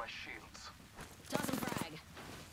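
Rapid automatic gunfire in Apex Legends, a short, quick burst of shots in the middle after softer game sounds, with a voice nearby.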